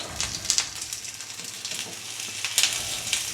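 Frozen pork sausages and thick frozen hash browns fry in an all-in-one cooking pan for an English breakfast, giving a close, crackling sizzle with bright popping spatters and no talking.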